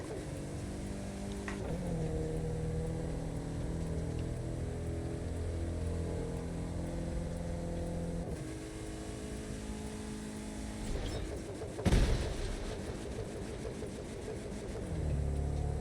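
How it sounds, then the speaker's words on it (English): A car's engine in the racing game The Crew 2 holds a steady droning hum, dipping and resettling a couple of times as gears change, with a sharp bump near the end and no voices. "The engine sounds need to be louder so I can get a good idea of gear change"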